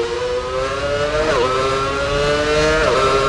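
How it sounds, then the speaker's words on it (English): Formula 1 car in the F1 Championship Edition racing game accelerating flat out, a loud, steady high-pitched engine whine rising through the revs with two quick gear-change dips, continuous and close. "Accelerating flat out through 7 and across the straight."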